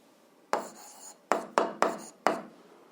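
Chalk or pen strokes on a board during an algebra lesson come as five short scratchy marks, one longer stroke followed by four quick ones, each starting sharply and fading, in a quiet room.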